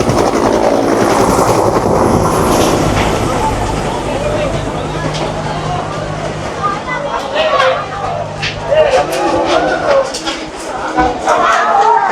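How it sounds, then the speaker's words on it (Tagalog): A firefighting helicopter flies over a burning residential area in the Philippines, a constant loud rotor roar under shouting and talking from a nearby crowd. "Yung helicopter. Papaliguan na ulit."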